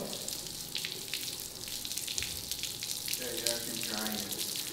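Water sprays steadily onto a car during a wash, a continuous hiss and splash that runs throughout, with a voice talking faintly in the background.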